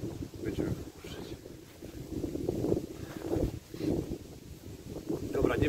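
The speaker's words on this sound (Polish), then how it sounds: "Bo jest wichura standardowo jak tutaj." Strong, gusty wind buffets the microphone by the water during a November carp fishing session, a continuous low rumbling roar that swells and fades in waves, loud and close throughout.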